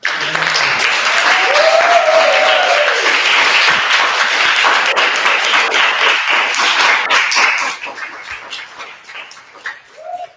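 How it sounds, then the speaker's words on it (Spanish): An audience at an artistic congress gives a loud round of applause for a speaker, with dense clapping that swells early, holds steady, then thins out into scattered claps and fades near the end. "Damos un fuerte aplauso al maestro Eliodoro"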